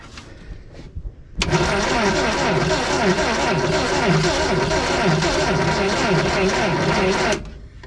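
A vintage Datsun 521 pickup engine cranks loudly and steadily for about six seconds with a rhythmic churning pulse, trying to start after a little extra gas, then cuts off abruptly.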